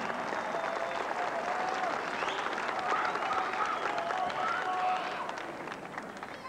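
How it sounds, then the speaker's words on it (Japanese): A crowd applauds wrestler Jackie Sato's retirement at a pro wrestling ring, the clapping sustained and dense at a moderate distance before tapering off near the end. "ファンの皆さん、盛大な拍手をお願いいたします。"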